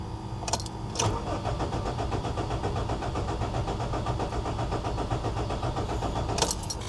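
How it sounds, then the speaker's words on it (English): A rare manual Honda that has not run in 15 years, with its ECU fuse missing, cranks over and over in a fast rhythmic whirr without catching. Brief clicks come at the start and end, and no voices are heard. "Crank not starting."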